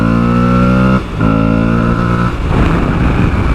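A loud, close adventure motorcycle engine revs steadily while accelerating, drops off for a moment, then climbs again before breaking into a rougher, fluttering roar.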